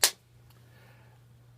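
A single sharp gunshot effect from the stealth game Gunpoint, one short thin crack at the start that dies away quickly over a low steady hum, with no talk.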